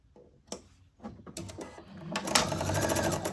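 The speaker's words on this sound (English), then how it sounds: "And I'm just taking a stitch right next to the one I just sewed" A sewing machine stitches quilt fabric in short bursts, starting with a few separate clicks and then settling into a rapid, close mechanical chatter.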